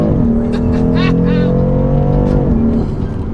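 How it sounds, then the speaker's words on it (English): A BMW M4's engine runs loud and steady with harmonic tones that hold, dip briefly and resume as it pulls hard through the gears at full throttle, with someone talking over it. "Well, 4th gear, 50 kilometers an hour, 3rd gear, 2nd gear. I'm gonna floor it."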